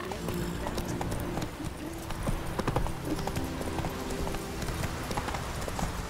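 Roach gallops in The Witcher 3. A dense, even drumming of hooves runs close and loud without a break, with only a faint hint of a neigh.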